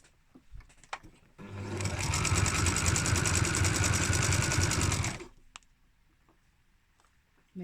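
A sewing machine runs in one steady, fast burst of stitching for about four seconds while tacking down a pyjama waistband in a ring, with a few clicks and handling noises before and after.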